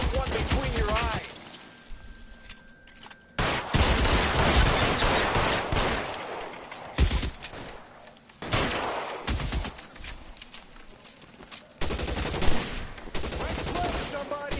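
Shootout gunfire in the LA Noire video game, with bursts of rapid shots and sharp single cracks coming in loud clusters separated by quieter gaps, mixed with shouting voices and loud game sound.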